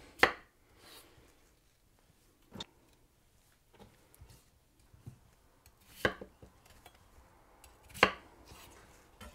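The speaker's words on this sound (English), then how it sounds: "We're just gonna chop them into quarters." A knife quartering potatoes on a cutting board in sparse, irregular knocks, a handful of sharp thuds separated by quiet pauses, close by.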